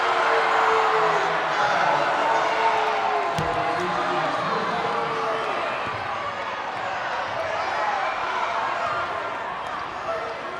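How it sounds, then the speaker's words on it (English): A gym crowd at a girls' high school basketball game roars and murmurs in reaction to a foul, a loud broad swell that eases off over several seconds, with a brief thud near the start and voices mixed through. "You heard the crowd in the background there."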